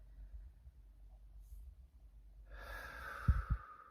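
A deep breath during a guided visualization: quiet, hushed room tone at first, then a close, audible inhalation and exhalation near the end with a couple of soft thumps.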